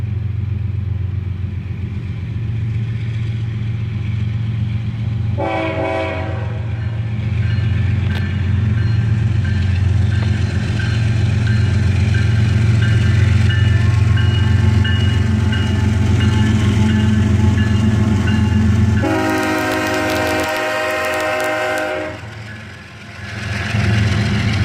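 A freight train hauled by a pair of ES44AC locomotives, one leading and one running as distributed power, rumbles past loud and near. Two separate horn blasts ring out over the steady low engine drone.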